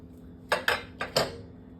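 A few metallic clanks and clatters of a lid set onto a cooking pot of guava curry simmering with jaggery, four quick knocks close by in a quiet kitchen.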